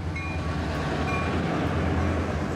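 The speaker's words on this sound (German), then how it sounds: "2 Loks ziehen heute den Zug." Train in Mexico hauled by two locomotives, carrying yellow first-class cars near El Fuerte, making a steady heavy rumble with faint tonal hints, continuous and moderately loud.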